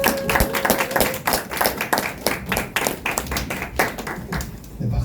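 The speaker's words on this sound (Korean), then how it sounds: "우리 박수로 우리 전사님 모셔보도록 하겠습니다" Church young-adult group audience at a leader training session clapping to welcome a speaker, a modest crowd with distinct individual claps audible, fairly close, tapering off toward the end.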